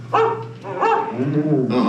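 A dog barks close and loud, with a couple of sharp woofs followed by a whiny, whimpering yip, all within about two seconds.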